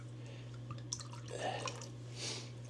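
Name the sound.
liquid concoction poured onto avocado plant soil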